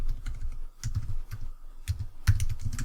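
Steady typing on a computer keyboard, a close series of quick key clicks and thumps in irregular bursts with no talking.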